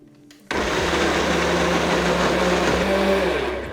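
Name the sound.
blender pureeing cubes of butternut squash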